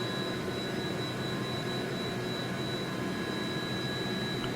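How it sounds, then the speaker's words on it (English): Helicopter droning steadily overhead at a fenced site, a continuous broad whirring roar with a faint tonal whine, moderately distant and unbroken throughout, no voices. "Can you guys hear the helicopter?"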